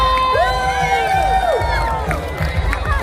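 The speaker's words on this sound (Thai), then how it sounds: "ปรบมือหน่อยเลย" A New Year countdown crowd in Kanchanaburi claps, cheers and whoops together, a loud continuous roar with shrill shouts and whistles rising above the clapping, with voices close by.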